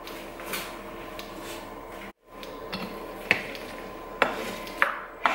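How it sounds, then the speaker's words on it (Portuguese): A spoon scrapes and knocks around a pot as macaroni is stirred into a sauce with sausage and sweet corn, with soft wet stirring and sharper clinks against the pot near the end, close up and without talk. "Mexo para misturar o macarrão e o molho"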